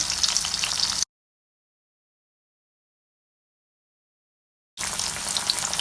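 Fish sizzles and crackles in hot oil in a pan for biryani over a medium flame. The frying is heard in two short stretches separated by a long silent gap.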